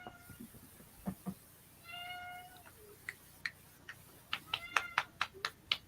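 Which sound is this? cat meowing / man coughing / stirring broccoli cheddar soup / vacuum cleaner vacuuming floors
cat meowing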